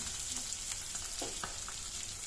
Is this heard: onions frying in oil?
yes